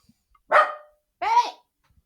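A dog gives two sharp, close barks about half a second apart, loud against an otherwise quiet room.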